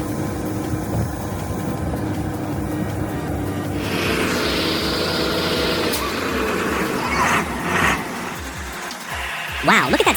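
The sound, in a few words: Scania 143 timber truck V8 engine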